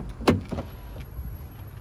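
Driver's side door of a 2018 Holden Colorado LS-X ute, heard as a brief mechanical clunk followed by a softer second knock, close and fairly loud, then fading to quiet cabin background.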